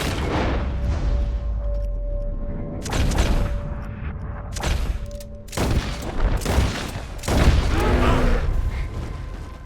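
Gunfire and booming blasts in Red Dead Redemption 2, with repeated loud, close shots in uneven bursts over a steady rumbling background and occasional in-game voices.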